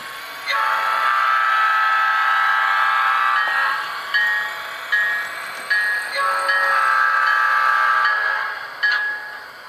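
An HO scale model train's Metro P5 horn recording sounds loudly and steadily, with sustained blasts that break off into short repeated toots, against no other sound.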